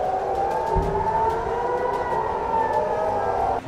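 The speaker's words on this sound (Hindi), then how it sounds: "इजरायल के अपर गैलीली, सेंट्रल गैलीली और हाइफा की खाड़ी में लगातार हवाई हमलों के सायरन बज रहे थे।" Air raid sirens wail continuously over northern Israel's Upper and Central Galilee and Haifa Bay during a rocket attack, a steady rising-and-falling tone with overlapping sirens, loud and sustained with no talk.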